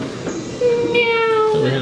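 Up close, a person mimics a cat's meow: one drawn-out, high, nasal cry that rises and then trails off.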